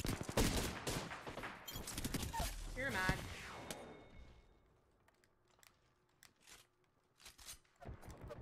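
Rapid gunfire from an Apex Legends match crackles in dense bursts for the first few seconds, then thins to scattered sharp shots and clicks, with a voice speaking briefly over it.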